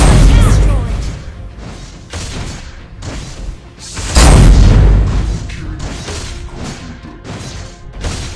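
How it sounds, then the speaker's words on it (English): A turret is destroyed in the Mobile Legends video game, with a loud booming explosion among repeated crashes, thuds and battle impacts, and game voice announcements around them. "Our turret has been destroyed."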